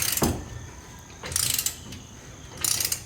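A ratchet and wrench with a cheater bar work on seized strut nuts on a 2002 Toyota Tundra; close, sharp metallic clicking bursts come in three short rounds separated by quieter pauses, no talking.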